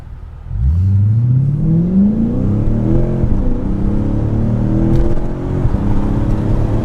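Lexus GSF sedan with a newly installed aftermarket exhaust, accelerating from inside the cabin: a loud engine note climbs steadily in pitch over several seconds, then holds a sustained droning rev with road and wind noise beneath, no talking.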